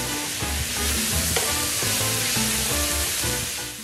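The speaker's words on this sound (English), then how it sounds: "Saute the vegetables while scraping the bottom of the pan to lift up that fond" Onions and peppers sautéing in olive oil in a pan for Cuban arroz con pollo, a steady close sizzle with scraping of the pan bottom, while a soft melodic background plays underneath.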